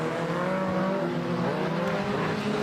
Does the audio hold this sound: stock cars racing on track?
yes